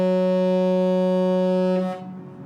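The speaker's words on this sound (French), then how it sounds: "Un petit coup de corne de brume" A large ship's foghorn on the Loire river near Nantes sounds one long, steady, deep blast with a rich harmonic tone, loud and close, before cutting off and leaving faint background noise.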